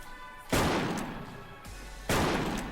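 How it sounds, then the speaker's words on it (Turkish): Sniper shots from an ETSR rifle in a shooting video game, two loud sharp blasts with a ringing decay, the second following about a second and a half after the first. "ETSR ile milleti vuruyor."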